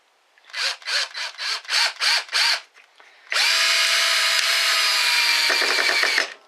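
Ridgid R82007 12-volt single-speed pocket drill boring into a 2x2 piece of wood: six short trigger bursts whine up and down in a row, then after a pause one long steady high-pitched run, loud and close, with no talking.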